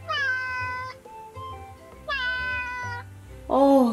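A cat meows clearly three times, close and loud, with short pauses between the calls. The last meow is higher and more strained than the others.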